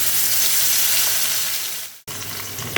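Onion and garlic paste hits hot oil with a loud, close, dense sizzle that fades a little, cuts out for an instant, then resumes as a steady frying hiss; nobody speaks.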